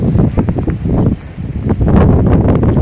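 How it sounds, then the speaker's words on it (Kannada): Strong, cold wind buffets the microphone outdoors in loud, rumbling gusts with a brief lull between surges, and no one is talking. "ಚಳಿ ಚಳಿ ಚಳಿ, ಗಾಳಿ ಉಂಟು ಬಾರಿ"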